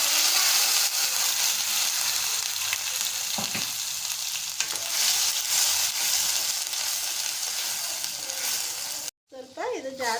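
Masala with mustard seeds and cumin fries in hot oil in a pan for an aloo curry, giving a loud continuous sizzle with stirring scrapes, briefly cut off near the end before the crackle resumes.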